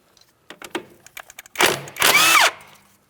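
An impact-type power tool breaks loose an 18mm tie rod mounting nut on a Ford Edge, with two strong bursts of whirring rattle after faint clicks and handling noises, close and loud.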